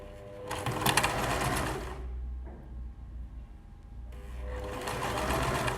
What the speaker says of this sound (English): I haven't used a sewing machine for a long time.